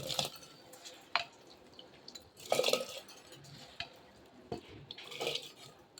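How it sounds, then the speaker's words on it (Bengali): Gobindo rice poured and stirred into boiling water in a pot, quiet scattered scrapes and splashes coming in separate bursts, with a few louder moments, fairly faint overall. "এইরকম ফুটা অবস্থায় এখন আমি চাল দিয়ে দিচ্ছি"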